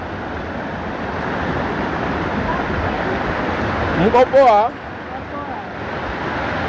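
Floodwater rushes steadily through the scene during a dangerous flood, a broad continuous roar close by, while a person briefly speaks over it near the end.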